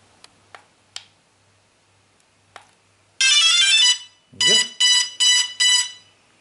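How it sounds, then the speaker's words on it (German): A DJI Phantom 2 drone powers on with a few faint ticks, then a loud sustained tone followed by four sharp, evenly spaced beeps. "dann schalten wir mal die Drohne ein."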